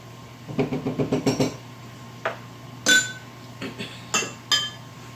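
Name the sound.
small spoon scraping tamarind paste from a jar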